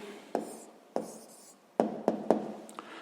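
Pen or pencil strokes on paper while a maths answer about chocolates in a box is written down, a handful of short sharp scratches and taps spaced irregularly, close and fairly quiet, with no talking.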